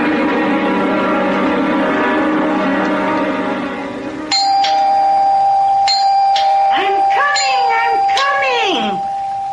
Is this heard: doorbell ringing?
yes